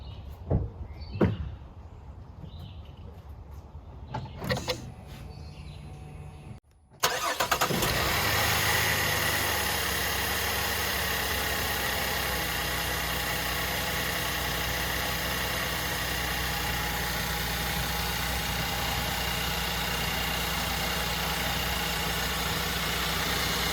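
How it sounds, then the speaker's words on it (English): A 2014 GMC Acadia with a worn, ripped torque strut cranks and fires up after several quiet clicks and knocks, then settles into a steady, continuous idle hum that lasts for the rest of the recording. "All right, I'm gonna start the motor."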